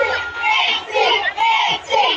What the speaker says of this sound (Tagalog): Ang sigaw ng lahat